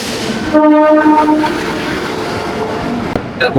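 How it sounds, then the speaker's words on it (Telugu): A passenger train from Hyderabad to Jaipur pulls into a busy station, its horn sounding loudly with a held tone before giving way to the steady rumble and clatter of the wagons rolling close by. "మీరు చూసుకుంటే మన ట్రైన్ వస్తుంది, ఇదే అనమాట మన ట్రైన్"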